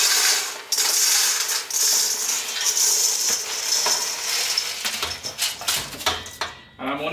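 Spiced roasted nuts pour into a bowl in a continuous bright clattering rattle of small hard pieces. The stream thins near the end into scattered clicks and taps.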